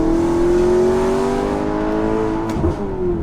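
A hail-damaged Maserati sports car engine revs up with a rising whine, holding a steady drone before a brief shift near the end.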